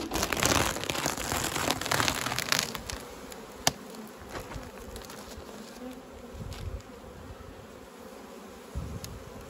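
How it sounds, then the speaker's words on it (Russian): Agitated honeybees swarm and buzz around hives at an apiary as rain begins, a dense, steady drone close by with a few rustling crinkles of plastic film, no talking. "Пчелы злятся, потому что вот дождь начнется, уже крапал."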